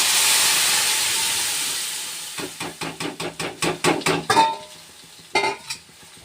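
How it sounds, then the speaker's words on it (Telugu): Hot tempering in a pan as lentils for drumstick-leaf dal go in: a broad hiss and sizzle that slowly fades, then a run of quick, rhythmic stirring scrapes and knocks close by, with no talk. "తాలింపు వేగిన తర్వాత ఈ పప్పు తాలింపులో వేయటమే"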